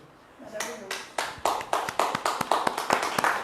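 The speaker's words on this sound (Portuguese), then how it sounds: "Palmas para vocês." Audience in a lecture hall bursts into clapping after a talk, starting sparse and building into steady, rhythmic applause of many hands, fairly close, with a voice speaking briefly at the start.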